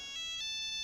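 A telephone ringtone chirps in a steady electronic tone with two brief accented pulses, filling the short moment in a Hindi-dubbed action film scene with no talk over it.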